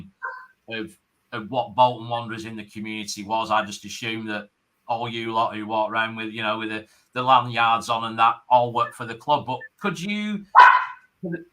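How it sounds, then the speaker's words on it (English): A pet dog gives a brief bark near the end, while people converse in a podcast recording about a football club's community work. "Well, that's my dog."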